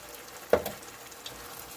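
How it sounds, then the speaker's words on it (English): A quarter cup of dry white wine hits a hot pan holding fish for pan-seared cod, giving a sudden sharp sizzle that quickly settles into a quiet, steady frying hiss. "I'm going in with the 1/4 cup of white dry wine"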